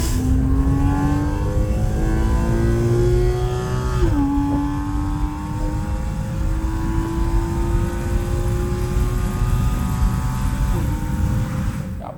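Porsche Boxster engine revving at night, a smooth rising drone that climbs in pitch through the gears with brief dips at shifts, loud and steady with no talk.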